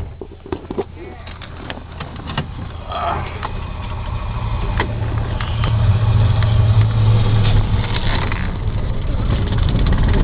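Close, steady engine drone from a Studebaker taking a lap around the block, building gradually louder as the car gets under way, with a few scattered knocks early on.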